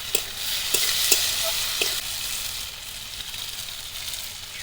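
Tomato and onion being stirred and fried in a pan for a spicy leaf-wrapped fish curry, a steady close sizzle broken by a few sharp scraping strokes of the spoon in the first two seconds.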